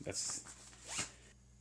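Zipper on a packing cube pouch, a few quick rasping pulls in short bursts, close and fairly clear, with a brief voice or rustle in between.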